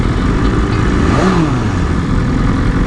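Motorcycle engine rumbles close by at night, with a brief rev rising and falling midway over a steady loud idle.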